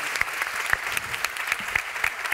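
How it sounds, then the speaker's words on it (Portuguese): Audience in a large auditorium at a conference applauding guest speakers, a moderate patter of many hands clapping steadily with a few sharper individual claps, no one talking over it. "Um aplauso para as nossas convidadas."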